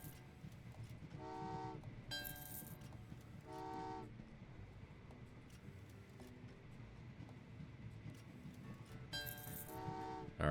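Trains in the video game Train Valley 2, with several short tooting whistle blasts over a steady low rumble of running trains, no talk.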